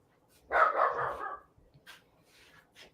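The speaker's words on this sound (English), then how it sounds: "everybody's dog's barking." Pet dog barking indoors, one long burst of rough, close barks, then faint scattered noises and quiet.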